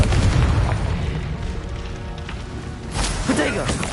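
Blasting fire spells detonate in the Hogwarts Legacy video game, with a heavy low boom opening and another rumbling burst following about three seconds later, all dense and loud.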